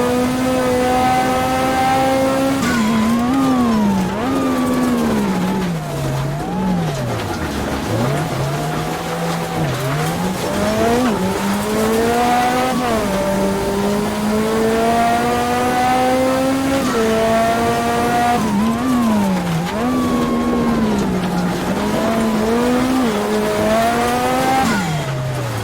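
Lancia Delta S4 Group B rally car with a 5-speed gearbox climbing the Transfagarasan mountain road, its engine loud and close, revving high, dropping on shifts and braking, then surging again, with tire squeal through the bends.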